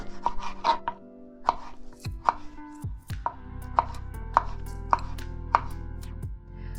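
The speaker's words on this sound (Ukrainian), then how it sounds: "У довільній формі нарізаємо помідор." A knife chops a tomato on a cutting board in a run of about ten crisp, close knocks at an uneven pace, with no talking.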